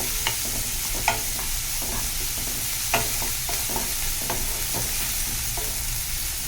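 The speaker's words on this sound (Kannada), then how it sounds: "ಈರುಳ್ಳಿ ಸ್ವಲ್ಪ ಬ್ರೌನ್ ಆಗೋ ತನಕ ಫ್ರೈ ಮಾಡ್ಕೊಳ್ಬೇಕು" Onions fry in a pan until they brown for a South Indian black urad dal dish, giving a steady close sizzle with occasional scraping stir clicks throughout.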